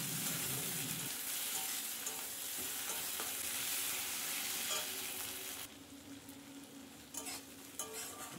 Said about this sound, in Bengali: রসুন ও লঙ্কার পেস্টটি ভালো করে পেঁয়াজের সাথে ভাজতে থাকবো